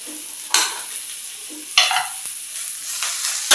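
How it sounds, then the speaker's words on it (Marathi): Onion and ginger roast in a pan for village-style chicken sukka, with a soft background sizzle broken by several brief scraping stirs spaced through the few seconds. "अद्रक सुद्धा मी कांद्यामध्ये भाजून घेणार आहे"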